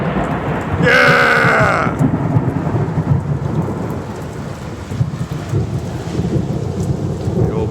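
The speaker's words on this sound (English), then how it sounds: "not so much the lightning and thunder." A South Louisiana thunderstorm unleashes a loud, close rumble of thunder early on over a steady roar of heavy rain, and a voice briefly exclaims in the middle of it.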